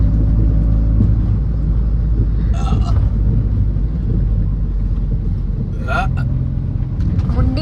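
A car drives along a road, its engine and tyre rumble steady and close with wind buffeting the microphone, and a couple of brief sharp clatters break through midway.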